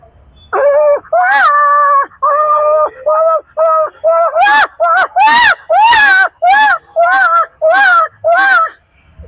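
A voice imitates a small child crying, with a series of loud, close wails and sobs that start drawn out and break into shorter, rising bursts.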